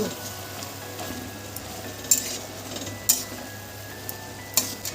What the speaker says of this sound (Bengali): এবার আমি একটু খুন্তি দিয়ে এটাকে নেড়ে নেব।